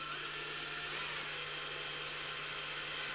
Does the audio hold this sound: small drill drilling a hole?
yes